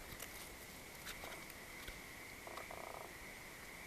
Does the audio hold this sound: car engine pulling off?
no